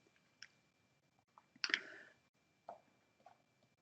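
Computer mouse clicks, a few quiet, close, isolated clicks spread apart, one slightly louder and longer than the rest.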